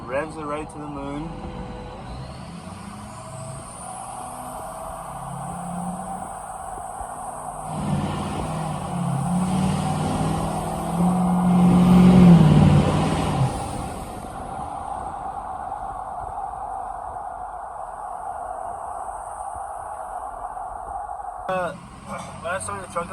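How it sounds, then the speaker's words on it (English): A cold truck engine, fitted with new 155cc injectors, idles and then revs up hard, swelling to a loud peak before settling back to a rough idle, close up. Someone talks over it. "Cold engine, revs it right to the moon."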